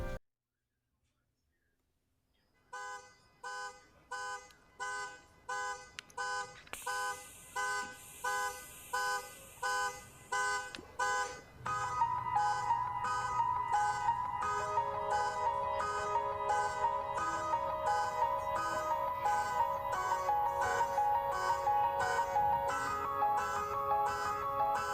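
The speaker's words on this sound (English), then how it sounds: "hopefully that's the end of that car alarm" A car alarm goes off nearby, starting with a burst of beeps and then cycling through a repeating electronic melody with steady rhythmic tones that stay loud throughout.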